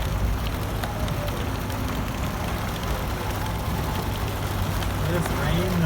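Heavy rain drums and hisses on a moving car, a dense continuous wash over a low road rumble from start to finish.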